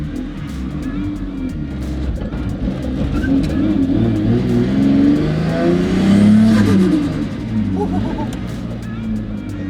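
An RB20-powered Ford AU ute engine rises and falls through revs, swelling to a loud peak mid-way before easing back, heard from inside the car with a steady road rumble.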